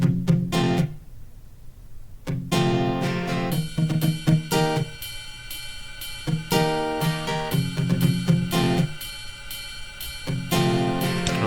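EarSketch drum beat built from two tracks, with a hi-hat part entering partway through; steady rhythmic electronic hits and sustained tones loop evenly across the whole stretch with no talking.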